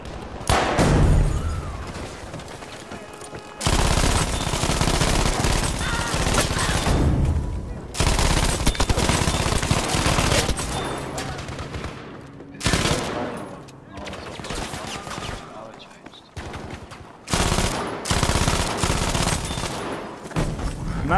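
MG42 machine gun fire in a video game, long loud sustained bursts of rapid automatic shots with brief pauses, with other gunfire and blasts mixed in and voices talking at times.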